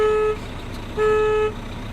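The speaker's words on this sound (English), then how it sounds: "Honk the horn twice." A truck horn honks twice during a pre-trip truck inspection at a Canadian truck-driving school, each blast steady, close and loud: the first about a third of a second, the second about half a second, separated by a short pause.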